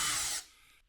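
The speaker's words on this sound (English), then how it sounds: "if we loosen this screw" A screw in a garage ceiling fixture is loosened with a power tool, giving a short, close whirring burst that cuts off and trails into faint room noise.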